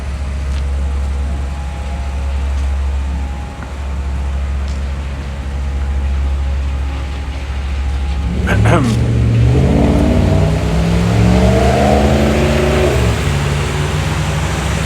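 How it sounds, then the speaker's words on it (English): City street traffic in Regina's Cathedral Area, with steady engine rumble and a car passing close, rising to a louder revving surge midway, heard from the sidewalk while someone talks. "Get off the traffic, away from the traffic."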